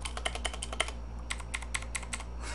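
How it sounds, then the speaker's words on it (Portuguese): Fingers type on a Redragon Mitra K551 mechanical gaming keyboard: two quick runs of sharp, close key clicks with a brief pause between, over a low steady hum. "O barulho do teclado é como? Deixa eu mostrar aqui pra vocês."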